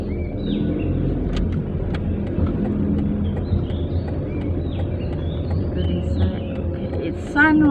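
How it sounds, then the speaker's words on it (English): A car passes on a road at sunrise in Kuala Lumpur, a low rumbling swell of tyre and engine noise at moderate distance, with birds chirping over it and voices nearby. "Another car coming."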